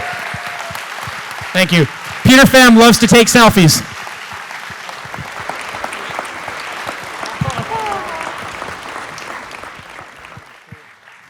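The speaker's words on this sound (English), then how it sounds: "Big round of applause." Applause at a startup investor panel on raising capital. A loud burst of voices and clapping comes early, then a softer, steady patter of clapping and crowd noise continues under speech.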